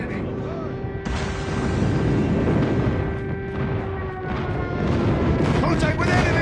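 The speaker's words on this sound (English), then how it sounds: "Friendly airstrike incoming." Airstrike explosions boom repeatedly in the mobile shooter game COD Mobile, heavy rumbling blasts layered with game voice callouts and a steady tonal hum.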